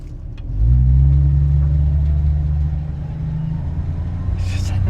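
A 1967 Ford Mustang Fastback drives down the road, its engine rising into a loud, steady rumble that holds close and strong, then eases slightly toward the end.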